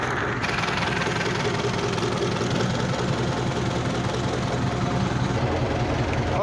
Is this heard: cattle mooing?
no